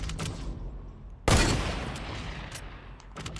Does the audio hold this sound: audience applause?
no